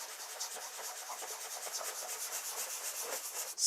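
Sandpaper rubs gently back and forth over a laser-cut wooden cake topper to remove burn marks, a soft, steady, rhythmic scratching close by with no talk.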